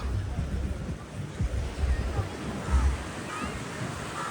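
Surf washes in steadily on Russian Beach at Arambol, Goa, as a low, continuous rumble of waves mixed with wind noise buffeting the microphone, with no clear voices over it.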